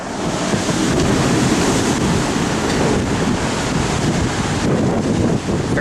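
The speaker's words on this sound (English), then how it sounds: "it's very windy" Strong wind buffeting the microphone over rough Atlantic Ocean waves with whitecaps, heard from the deck of a Carnival cruise ship; a continuous loud, dense roar of wind and surf with no pauses.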